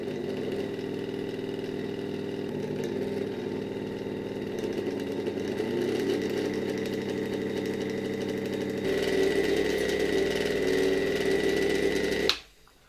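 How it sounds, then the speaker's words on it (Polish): Unhoused electric motor from a 1964 FAWOD coffee grinder runs at a steady, loud whirring hum with a fixed pitch, rising slightly after a few seconds before being switched off abruptly near the end. "silniczek całkiem fajnie działa także bez tego kondensatora przeciwzakłóceniowego"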